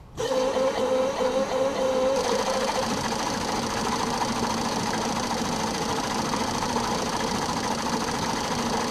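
Fuel injector cleaning and flow testing machine running a steady, continuous mechanical hum and whir with a faint whine, close by and unchanging, no speech.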